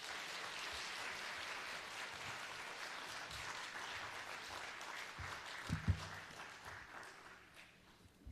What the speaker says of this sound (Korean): 우리 선교사님 박수로 모시겠습니다